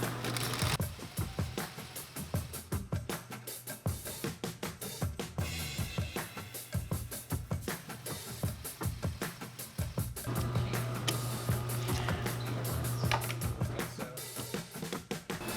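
A sewing machine running rapid bursts of stitches down the middle of a long belt loop on a light-duty tactical belt, a close, busy mechanical chatter with a brief steady hum near the end.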